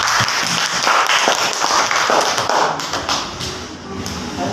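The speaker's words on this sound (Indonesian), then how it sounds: "Kita beri aplaus untuk Rena" A classroom group applauding for a student, a dense burst of close, steady clapping that holds loud for about three seconds then tapers slightly.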